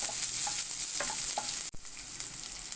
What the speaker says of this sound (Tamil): இப்போ வெங்காயத்தை போட்டுக்கலாம். நம்ம இதையும் போட்டு நல்லா மிக்ஸ் பண்ணிக்கோங்க.